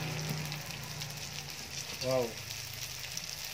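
Lumpiang shanghai spring rolls fry in hot oil with a steady, close sizzling hiss throughout. A person briefly exclaims partway through.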